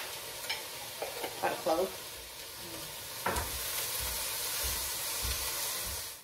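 Minced garlic sizzles with softened onions in a pan for chicken pot pie soup, a steady frying hiss broken by a few scraping stirs of a utensil while a voice speaks briefly.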